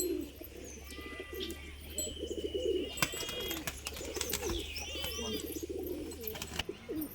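Domestic racing pigeons coo softly in low repeated throaty calls, with scattered chirps of other birds and a faint hum underneath.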